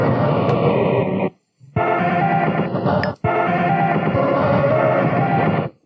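A Casio SK-1 sampler plays a circuit-bent sample, a dense, gritty, warbling loop that cuts out abruptly twice and restarts, loud and close with no voices over it.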